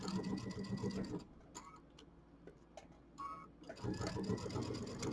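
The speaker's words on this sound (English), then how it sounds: "Okay, so we're going to do our 1/4 inch seam." A sewing machine stitches a quarter-inch quilt seam, running in a fast, close mechanical tick, pausing briefly in the middle, then starting up again.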